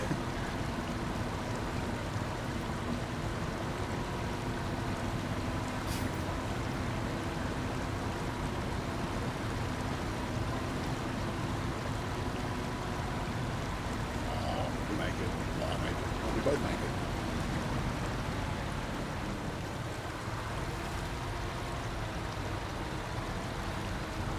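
Heavy truck in the Snowrunner video game driving through deep water, giving a steady low rumbling engine drone with continuous splashing and sloshing water throughout, with people talking over it.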